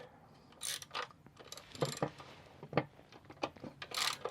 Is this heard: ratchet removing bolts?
yes